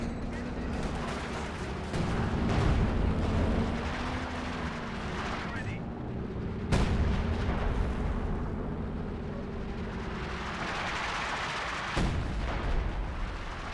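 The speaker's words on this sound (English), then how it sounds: "Coordinated barrage." Artillery fires a coordinated barrage in a strategy video game, a dense rumbling roar of repeated booms with a couple of sharp blasts, loud and continuous, with talk over it.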